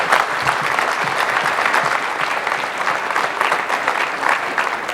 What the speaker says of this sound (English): please, give a round of applause to all of these organizations that put